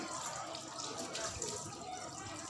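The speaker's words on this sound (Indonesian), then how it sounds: "Kemudian bilas menggunakan air yang mengalir." Hands are rinsed under running tap water, a faint, steady splash and trickle with soft drips, while a voice speaks quietly.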